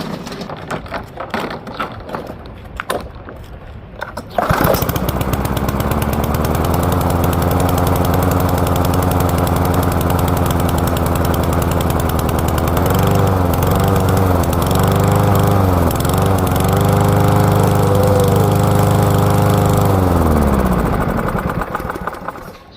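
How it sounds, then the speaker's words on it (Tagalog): A lawn mower engine sputters a few times, then catches and runs steadily at a loud, close, even idle for about fifteen seconds, its pitch wavering slightly before it cuts out near the end, with no talking. "Subukan natin yung lawn mower natin ngayon."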